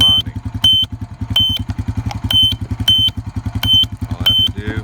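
A supercapacitor battery's charging-circuit alarm gives a steady series of sharp, high electronic beeps at regular intervals, with a fast pulsing low hum running continuously underneath.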